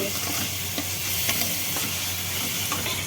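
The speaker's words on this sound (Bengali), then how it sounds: "এই যে মশলা কষানো হচ্ছে" Spices for chicken curry sauté and sizzle in a pan, a steady, close frying hiss with occasional scraping stirs and soft clicks of a utensil, with no voices.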